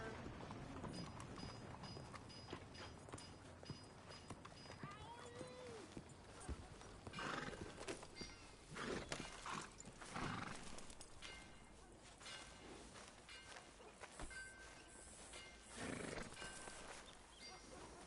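A horse in the Red Dead Redemption 2 video game gallops with quick rhythmic hoofbeats, snorting and whinnying now and then over a busy outdoor soundscape, with soft talk in places.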